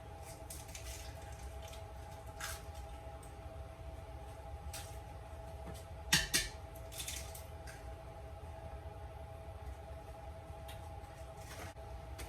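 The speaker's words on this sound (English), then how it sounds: "you're going to take 2 eggs and crack them" Two eggs are cracked for homemade dog food, a pair of sharp close cracks followed by a wet squish, set against a steady low hum and scattered quieter handling noises.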